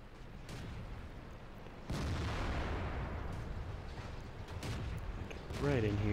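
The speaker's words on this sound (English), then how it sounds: "So I shot at the Comet a little bit." Tank cannon shots fired at a Comet in World of Tanks, heard as a couple of sharp booms with rumbling engine noise in between, fairly loud, and a short voiced tone at the end.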